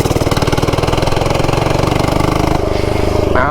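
Small single-cylinder engine on a cheap Amazon mini bike with its throttle limiter removed, running loud and close with a fast, even chugging pulse that shifts pitch slightly toward the end.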